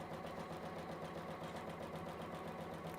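A sewing machine top-stitches fabric with a steady, rapid mechanical whir and rhythmic needle chatter, close and continuous throughout with no talking.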